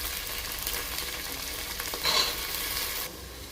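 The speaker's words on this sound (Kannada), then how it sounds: "ಹಂಗೆ ಈರುಳ್ಳಿನ ಫ್ರೈ ಮಾಡ್ತಾಯಿರಿ ಮಧ್ಯದಲ್ಲಿ" Onion and hyacinth beans fry in a pan over medium flame, giving a steady, soft sizzle with a brief louder stir or scrape partway through.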